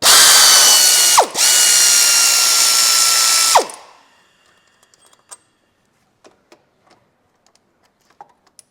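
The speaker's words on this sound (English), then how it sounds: "And now I just want to undo the 3 bolts" A hand ratchet clicks rapidly and loudly in two long bursts while undoing 13mm bolts during removal of a Chevrolet Cruze 1.4 engine, followed by faint scattered taps and clinks in a quiet workshop.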